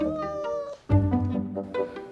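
A pet kitty cat meows beside a Dreame L10s Pro robot vacuum: a drawn-out, close, clear meow, a short break, then a louder wavering meow with smaller follow-up cries.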